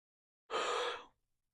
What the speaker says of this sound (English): sorry for the yawn